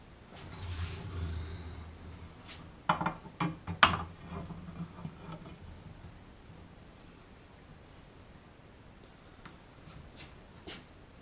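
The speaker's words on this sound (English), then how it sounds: "So now I will have to bend this with my other bending machine." A manual bending machine bends a metal bar for a propane bottle holder, with a cluster of clanks and ratcheting clicks midway, then faint scattered metallic ticks, close and fairly quiet without talk.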